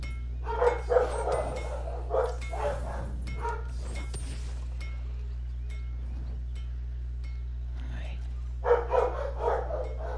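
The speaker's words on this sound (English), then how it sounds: "now that barking so loud, I can't hear the supposed sound effects" A dog barks in a few loud bursts, then falls quiet before barking again, over a steady low hum with people talking and a video game playing.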